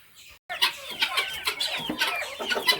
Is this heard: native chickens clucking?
yes